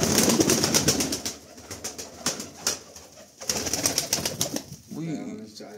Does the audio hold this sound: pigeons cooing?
yes